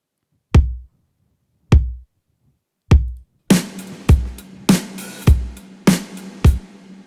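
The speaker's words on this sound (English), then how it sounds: "the acoustic drums sound like this" Acoustic drum kit playing back, three isolated kick-like hits spaced apart, then a fuller groove with kicks, cymbal wash and snare ringing together.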